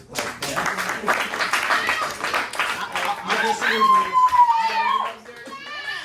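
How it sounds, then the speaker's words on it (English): A small group at an artist show-and-tell gives a round of applause for the presenter Ace, scattered clapping mixed with children's voices and chatter, with a drawn-out vocal sound near the end as the clapping fades. "Let's give one good round of applause for Ace, please."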